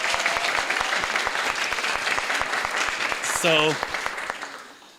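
An audience at a storytelling event gives a steady round of applause, dense and loud, with a voice briefly heard over it near the end before the clapping fades out.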